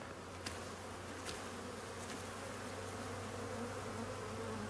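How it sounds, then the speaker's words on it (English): Honeybees shaken off a hive comb buzz in a dense, steady swarm drone close by, with a few louder individual bees passing near. "I'm going to shake these bees off gently and see if we can take this comb and shake them off back into their hive."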